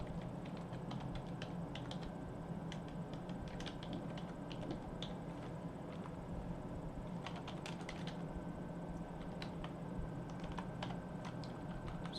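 Steady computer keyboard typing while code is written, a continuous run of soft, close key clicks with no talking.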